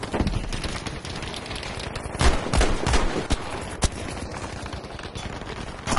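Rapid bursts of loud artillery cannon fire crack in quick succession in Battlefield V multiplayer, sharp impacts with a dense rumbling background.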